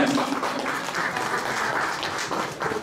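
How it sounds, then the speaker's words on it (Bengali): A crowd at an iftar party applauds cricketer Taskin Ahmed with steady, dense clapping that fills the room for the whole stretch, loud and continuous, with faint voices mixed in. "তার জন্য আরেকটা তালি হয়ে যায়।"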